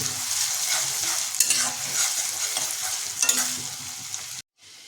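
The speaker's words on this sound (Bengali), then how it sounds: "নেড়ে নেব আমরা ততক্ষণ পর্যন্ত নাড়তে থাকবো" Ginger garlic paste fries in a pan for mutton ghugni, giving a bright sustained sizzle with several scraping stirs, then cutting off abruptly near the end.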